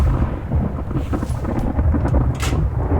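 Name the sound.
thunderstorm in the video game The Infected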